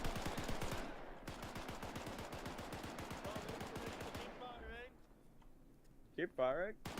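A machine gun fires blanks at a WW2-style British reenactment training, rapid bursts of sharp close shots for about four seconds, then a pause and brief shouted voices.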